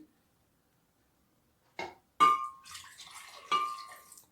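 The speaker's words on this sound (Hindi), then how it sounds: "हमें पहले थोड़ा दूध डालेंगे" Milk is poured into a blender jar for a date and almond drink, heard as a few short, close liquid splashes and gurgles after a second and a half of silence, with no speech.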